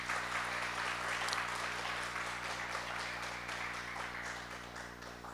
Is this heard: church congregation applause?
yes